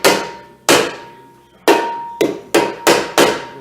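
Seven sharp rubber hammer taps on a Nissan Xterra brake rotor, each a crisp strike with a short ringing tail, coming in an uneven rhythm close by.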